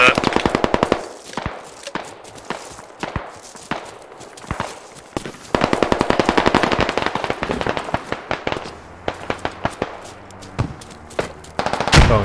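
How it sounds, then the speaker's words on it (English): Rapid machine gun bursts in the video game Squad during a US Army fight against insurgents in Afghanistan, loud close rattling volleys separated by brief pauses, with distant shots and faint voices between them. "Yeah, got a machine gun in there."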